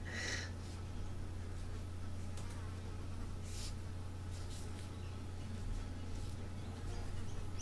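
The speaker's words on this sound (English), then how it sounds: "It's buzzing. It's stupid ruddy fly, honestly." Fly buzzing around an indoor room, its faint whine coming and going in brief bursts over a constant low electrical hum.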